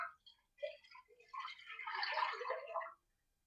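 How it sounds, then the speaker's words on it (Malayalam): One litre of milk is poured into a pan for rice payasam, a short liquid splash and gurgle lasting about two seconds, close and fairly quiet, with no talk. "പാനിലേക്ക് ഒഴിച്ചു കൊടുക്കാം"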